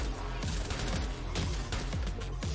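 Rapid bursts of gunfire and impacts in an action sequence from a Ubisoft video game trailer, dense and loud with several sharp shots in quick succession over a constant backdrop of game sound and music.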